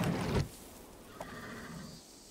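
A short, loud video game horse whinny opens, followed by quieter rustling and a faint snort; no talking.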